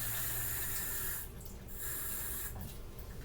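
Water runs from a kitchen tap into a taco seasoning package, a steady close hiss that dips briefly as the flow shifts.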